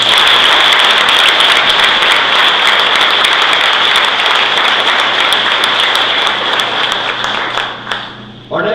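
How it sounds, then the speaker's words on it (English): A large audience at a hall of fame induction ceremony claps loudly and steadily for several seconds, the dense applause tapering off near the end. "Please join me in applauding the life of Dick Hildebrand."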